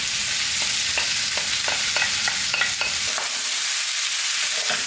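Rice going into a hot pan with tandoori flavouring, sizzling and frying loudly while a spoon scrapes and stirs in repeated strokes, the sizzle steady throughout with no voices.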